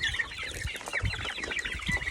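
Several Easter Egger chickens cluck continuously in a busy, overlapping chorus, close by and steady throughout.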